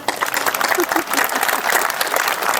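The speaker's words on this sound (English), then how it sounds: "Give yourselves a round of applause." High school graduation crowd giving a round of applause, a dense roar of many hands clapping with cheering mixed in, sustained and loud throughout.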